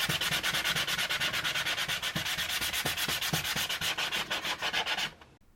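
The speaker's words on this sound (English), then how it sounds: "I can sand my homemade glue" Steady back-and-forth sanding of very fine sandpaper rubbing hardened homemade glue, rhythmic strokes up close, stopping abruptly near the end.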